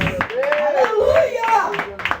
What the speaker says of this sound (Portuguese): Você pode aplaudir o nosso Rei!